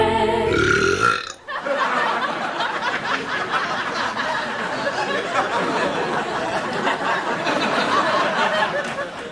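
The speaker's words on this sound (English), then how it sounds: "Nothing funnier than cats burping." Cats burping on a late-night talk show, a loud belch followed by a long stretch of audience laughter and chatter.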